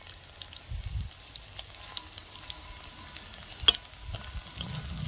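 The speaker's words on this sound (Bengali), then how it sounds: "পেঁয়াজ আর রসুনটা একটু ভাজা ভাজা করে নেব।" Chopped onion with crushed garlic frying in a pan, a soft steady sizzle with occasional pops and a sharp clatter partway through, close by with no talk.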